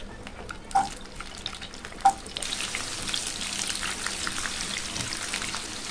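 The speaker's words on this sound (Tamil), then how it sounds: "பாருங்கள், வெங்காயத்தை ஒரு நிமிஷம் நல்லா வதக்கிக்கிட்டாச்சு" Onions drop into hot sesame oil in a kadai: after two sharp clinks, a loud, dense crackling sizzle bursts up and keeps going steadily, with faint stirring scrapes underneath.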